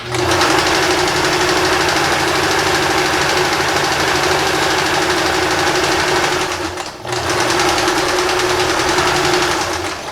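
A sewing machine runs steadily up close, stitching red thread along existing topstitching on recycled denim jeans. It keeps a loud, even mechanical whir with one brief pause near the end.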